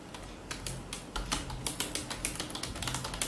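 Rapid uneven clicking from a SteelSeries Apex 350 mechanical gaming keyboard as keys are typed on, close and moderately quiet, with clusters of sharp keystrokes and no talking.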